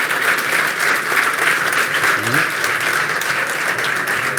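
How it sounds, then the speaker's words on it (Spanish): Sustained applause from a live audience at an international congress session in Argentina, a dense, steady wash of clapping filling the whole stretch, with a faint voice briefly audible underneath. "Un aplauso para Gabriel."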